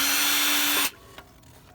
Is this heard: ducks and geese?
no